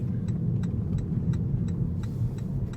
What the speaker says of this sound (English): I'm going to drag the brake a little bit here